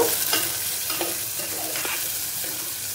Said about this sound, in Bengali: ফোড়নের উপরে দিয়ে দেবো পেঁয়াজ এটা ভাজা ভাজা করে নেব